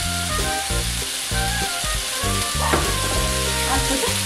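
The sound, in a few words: chicken frying in a pan for pepper dry chicken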